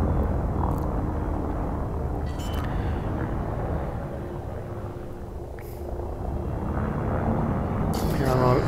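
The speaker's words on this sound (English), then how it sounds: "Here I'm activating the downward thrusters." Downward thrusters roar steadily as a spaceship descends to land in Elite Dangerous, a loud, sustained rumbling engine drone with faint clicks over it, while someone talks.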